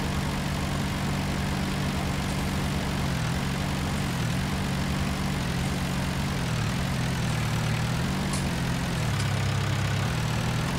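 A Massey Ferguson 277G tractor engine runs steadily in a field with a four-furrow Alpler plough, a loud continuous low diesel drone that rises and dips in pitch a few times under load, heard alone without talk.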